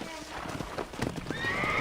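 A horse whinnies near the end of a short burst of hoof clops, close and fairly loud, in the video game Red Dead Redemption.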